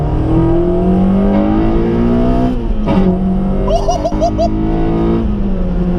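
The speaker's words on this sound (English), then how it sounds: "when this comes on VTEC, oh my god, the noise it makes" A Honda Integra DC5 engine revs hard and climbs in pitch as VTEC engages, its note hardening as it pulls higher, loud and close, with gear changes in the middle.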